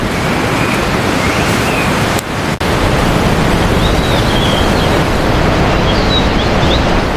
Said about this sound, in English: is nature's perfect sleeping soundtrack